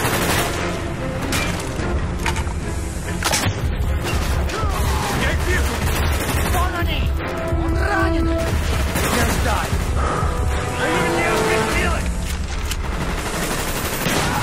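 Sustained gunfire from Call of Duty: Black Ops, with dense bursts of automatic weapon fire and single shots running continuously and loudly throughout, mixed with game voices calling out.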